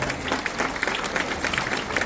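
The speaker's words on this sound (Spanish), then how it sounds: "Un aplauso a la hermandad de Emaús." A congregation applauds the Emmaus brotherhood at a parish church service, a short, steady burst of clapping from a crowd.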